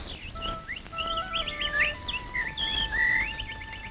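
Several small birds chirp and twitter in quick, overlapping bursts of high, bright calls, close and fairly clear over a steady faint background hum, with no voices.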